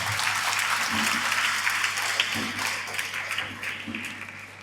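An audience at a school annual day gives a burst of loud, dense clapping that holds steady and then slowly tapers off, with faint voices underneath.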